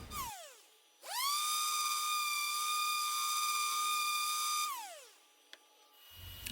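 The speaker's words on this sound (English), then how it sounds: "I began to sand the legs in preparation for stain" A power tool whines as it sands the legs of a wooden piano stool to strip the old finish, spinning up with a rising pitch, holding a steady loud tone for several seconds, then winding down and falling silent.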